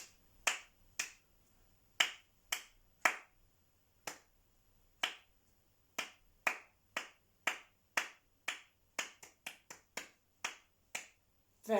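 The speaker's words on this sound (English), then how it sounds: "Let's say them in our heads, but clap them this time." Hands clap out a practiced rhythm in a music lesson: a long series of sharp, dry, close claps in an uneven pattern of short and long beats, heard alone against a quiet room.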